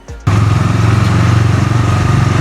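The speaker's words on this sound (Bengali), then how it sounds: "তোমরা দেখতে পাচ্ছ আমি বাইকটা নিয়ে বেরোচ্ছি" A motorcycle engine starts and runs steadily with a loud, close, throbbing idle rumble.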